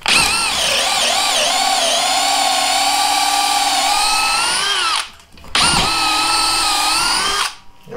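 A Craftsman brushless drill in drilling mode on speed 2 whines loudly and close up, its pitch wavering under load, with two brief stops before it spins up again.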